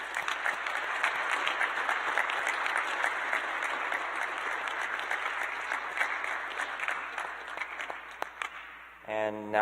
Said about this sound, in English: Let's give one last round of applause for all the graduates.